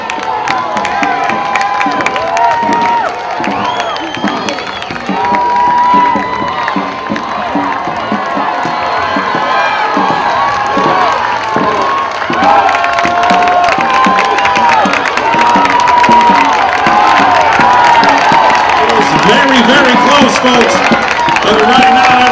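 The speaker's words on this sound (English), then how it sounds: "Let's give them some applause as they race in front of us, folks." A crowd at dragon boat races cheers, whoops and applauds continuously, loud and close, with children shouting and excited voices rising and falling throughout.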